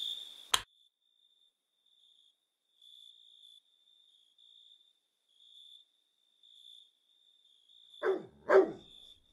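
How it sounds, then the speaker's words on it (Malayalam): A dog gives one sharp bark, then after a long lull of steady cricket chirping it barks twice more in quick succession, close and loud. "പരട്ട പട്ടി"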